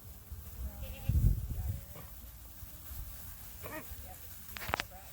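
Goats bleat a few times at moderate distance, short wavering cries scattered over quiet outdoor background noise.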